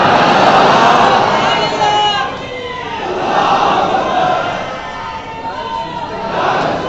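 A crowd at a religious gathering for the Urs of Baba Tajuddin in Nagpur shouts the Nara-e-Takbir slogan in loud, rising waves of massed voices, three surges of chanting one after another.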